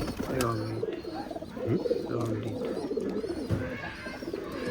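Old-bloodline pigeons, a slender female line, coo in deep, repeated throaty phrases close by, with softer overlapping calls and faint chirps behind.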